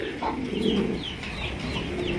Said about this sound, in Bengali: একজন ব্লু শার্টিন কবুতর প্রচুর ডাকে